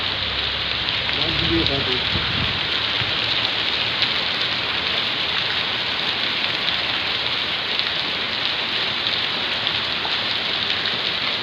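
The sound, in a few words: hail and rain falling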